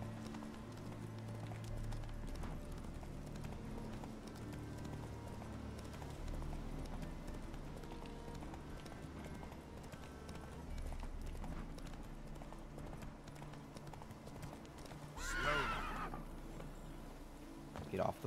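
Horse hooves clip-clopping with a whinny near the end, in a Witcher video game, under continuous background music and game ambience; a voice speaks briefly.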